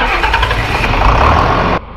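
A John Deere 4010 tractor engine cranks and catches on a below-freezing day, a loud, close, rumbling start that runs for under two seconds before cutting off abruptly.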